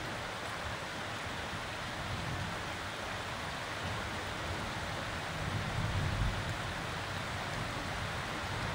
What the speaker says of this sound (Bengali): হাওয়া হয়ে হয়ে অবশেষে বৃষ্টি নামলো।